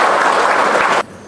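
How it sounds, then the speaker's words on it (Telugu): An audience breaks into a short, dense burst of clapping at a gathering honouring a doctor, loud and steady for about a second before cutting off abruptly into quiet room tone. "మీ అందరూ సార్కి గట్టిగా చప్పట్లతో ఒక్కసారి అభినందన తెలియజేస్తే"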